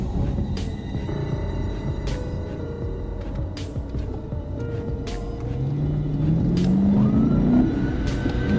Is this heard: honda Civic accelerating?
yes